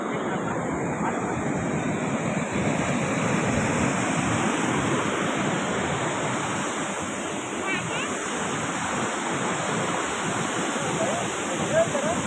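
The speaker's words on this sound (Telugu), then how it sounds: "ఏడుపాయల డ్యామ్ బొర్రుతున్నది చూడండి అందరూ" Water rushes over the Edupayala dam in a steady, loud, broadband roar, with wind buffeting the microphone.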